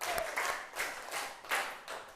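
Bursts of hand clapping repeat at a steady pace, several sharp clusters of claps spaced evenly apart, fairly close and moderately loud.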